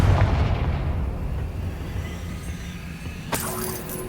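Confringo fire spell fired in Hogwarts Legacy, a loud rumbling blast with a dense, booming roar that holds steady, then a sharp bright crack near the end, with no voices.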